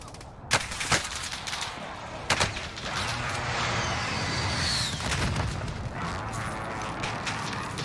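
Gunfire in the video game Warzone: a couple of sharp shots early, another pair near the middle, then a steadier burst of firing, fairly close and loud over a busy game background.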